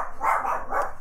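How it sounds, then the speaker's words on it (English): Dogs barking indoors at someone outside, a few rough barks in quick succession at moderate distance, with no talk over them. "Not sure what the dogs are complaining about, but they are."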